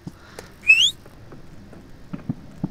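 A single short, rising whistle in the horror game Apeirophobia, brief and fairly clear against a quiet background with faint scattered taps and shuffles.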